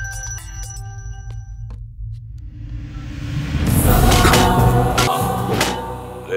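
A mobile phone ringtone in a Telugu action movie scene chimes with clear repeated tones for under two seconds, then falls silent before a swelling low rumble and whoosh take over.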